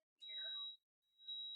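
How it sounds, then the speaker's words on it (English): An Instant Pot pressure cooker gives two electronic beeps, the first steady tone lasting over half a second, then a pause and a second beep, loud and near in a kitchen while kale and onion are being prepared. "it's going to be a little noisy for a bit, a lot of beeping and so on"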